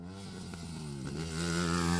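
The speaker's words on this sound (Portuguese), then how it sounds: "E ela fez isso em cima de uma moto, dando saltos de mais de 15 metros." Motorcycle ridden by a woman performing long jumps, its engine revving up to a steady, rising whine that grows louder and closer, heard alone without voices.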